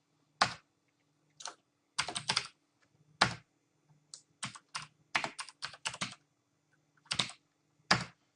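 Names are typed into a text file on a computer keyboard in irregular bursts of crisp key clicks with short pauses between, close-up and quiet against a faint hum.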